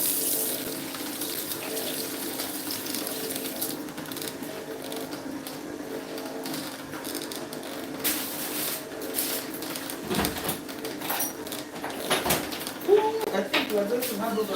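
Tap water runs steadily into a container at a kitchen sink while juice is made, a continuous rushing hiss under a person talking, with a few clinks near the end.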